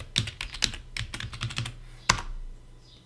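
A password being typed on a computer keyboard: a close, crisp patter of uneven keystrokes with short pauses, ending in one sharper key press and then quiet, with no talking.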